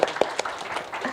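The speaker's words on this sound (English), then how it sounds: "Yes, clapping." An audience at a conference talk claps briefly, a few sharp, scattered hand claps fading quickly into a soft room murmur.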